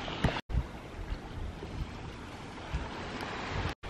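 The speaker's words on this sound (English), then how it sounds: "That little ocean is like pretty crazy and dangerous." Ocean waves wash onto a rough, steep-shored beach at Vieques, Puerto Rico, a steady broadband roar of surf and wind that continues throughout with brief dropouts.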